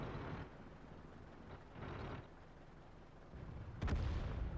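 A Foch 155 tank destroyer's heavy gun fires in World of Tanks, booming blasts with rumbling tails recurring every second or two over engine and battle noise, one sharper crack near the end.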